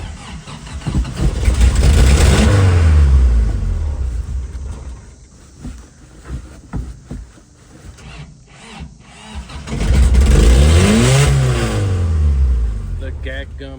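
A 1984 Toyota truck engine cranks, catches and revs in two loud surges with a rougher, quieter stretch between them, recorded up close.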